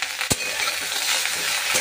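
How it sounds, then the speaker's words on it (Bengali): Water spinach stems with turmeric and salt fry in a hot pan, a dense close sizzle punctuated by a couple of sharp spatula clacks as they are stirred, without speech. "এবার আমি খুব ভালো করে ভেজে নেব।"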